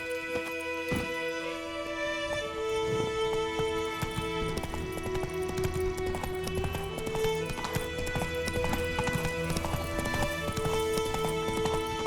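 Roach, a horse in The Witcher 3: Wild Hunt, gallops with a rider, giving a steady run of close hoof clip-clops under tonal game music that plays throughout.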